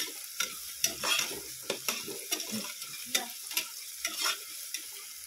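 Onions sautéing in a pan for ghee rice, a soft sizzle punctuated by frequent quick scrapes and taps of a spatula, close up and quiet with no voices.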